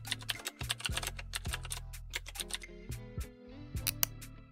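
Quick bursts of clicking keystrokes on a computer keyboard patter close and clear, with a few short pauses, over a soft steady background tone.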